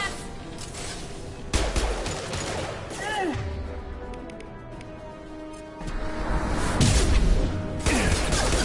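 Gunfire from Blue Suns mercenaries and Vorcha in a video game firefight, loud bursts of shots and crashes arriving in clustered waves with whooshing effects between them, with voices talking faintly underneath.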